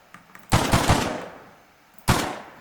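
A quick burst of rapid gunshots from the Just Enough Guns game mod, loud and sharp, followed after a brief pause by a single booming shot.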